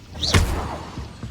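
Incendio fire spell cast in the video game Hogwarts Legacy: a short rising swoosh bursting into a loud fiery whoomph, followed by a fading crackle and a couple of faint thuds.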